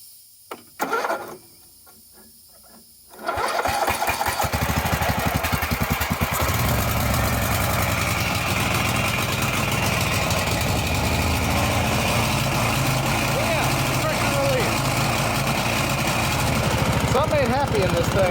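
Husqvarna LTH 18538 lawn tractor engine with a faulty, swapped engine cranking a few times, then catching and running rough and loud with an uneven, lumpy idle close by, voices briefly heard.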